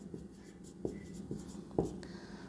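Chalk on a board during a math lesson on circles: several short, scratchy strokes and taps in an irregular rhythm, fairly faint against a quiet room.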